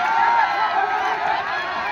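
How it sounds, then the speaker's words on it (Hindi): A crowd at a village wrestling dangal welcomes a politician with a steady wash of clapping and cheering, close and fairly loud throughout. "एक बार जोरदार ताली से नेताजी का स्वागत किया जाए"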